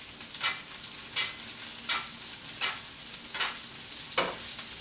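Chateaubriand sizzles in a pan while being basted with butter and aromatics, a constant frying hiss broken by regular whooshing spoon sweeps roughly every three-quarters of a second, close up with no talking.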